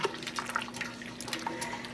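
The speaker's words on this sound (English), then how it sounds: "we're probably adding under 2 cups of water with adding our dye in here" Water splashes and trickles as it is poured into a container of persimmon acid dye for dyeing yarn, a soft, steady running-water sound with small bright splashes, close by and alone.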